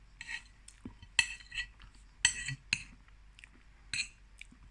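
A spoon clinks and scrapes against a plate while someone eats a mille-feuille, with a handful of sharp, close taps and scrapes spaced irregularly in an otherwise quiet room.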